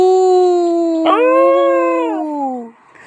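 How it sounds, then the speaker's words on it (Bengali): A long, loud drawn-out howl with layered pitches, as if two dogs howl at once, rising slightly then tapering off near the end. "দুই কুত্তা একসাথে চিল্লায়"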